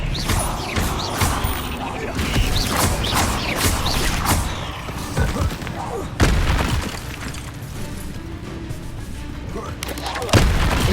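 A spell cast in the Hogwarts Legacy video game, heard as booming magical blasts and crackling impacts that surge loudly amid continuous battle noise, with a sharp burst near the end.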